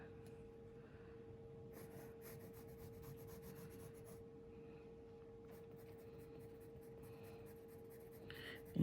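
A 6B pencil shading fabric folds on paper: a continuous quiet scratching and rubbing of graphite with short repeated strokes, close up and soft, over a faint steady hum, with no talking.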